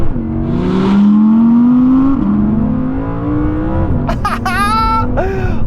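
An Audi R8 rear-wheel-drive engine revs hard and climbs smoothly through the gears, pulling up toward high RPM, with a brief dip at each shift and a sharp rising whine near the end, loud and close from inside the car.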